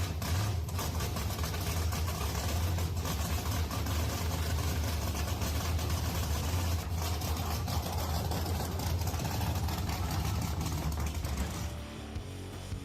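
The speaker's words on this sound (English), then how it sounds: "this newly restored Ford Mustang 1965 is a vivid example of a combination of exterior aesthetics and incredible power under the hood" Restored 1965 Ford Mustang engine running with a steady, deep rumbling idle heard up close, loud and continuous, with no talk over it.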